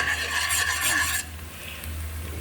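Cabbage and sardines being sautéed in a pan give a close, rough scraping and stirring sound over a soft sizzle, loud at first and then quieter.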